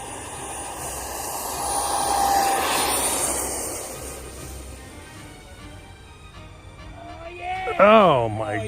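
Twin 64mm electric ducted fan RC MiG-29 jet on a freshly mowed grass runway, a steady whooshing fan roar swelling through the takeoff run, with wind noise and a voice exclaiming near the end.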